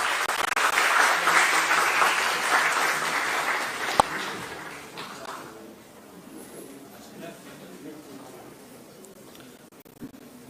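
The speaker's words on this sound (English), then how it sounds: "in your great round of applause, I would like to invite Head Department of English, Dr. Salim Khan" An audience at an English linguistics and literature symposium in Multan applauds a department head's introduction, with loud, steady clapping for about five seconds that then fades into quieter room noise.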